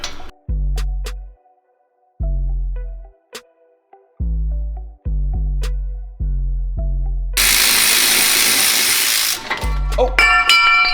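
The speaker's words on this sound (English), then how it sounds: "use our electric tool to pull them out" Electric power tool pulling 18mm caliper bracket bolts on a Focus ST during a brake pad and rotor job, a series of short loud bursts separated by pauses, then a longer harsh whir near the end.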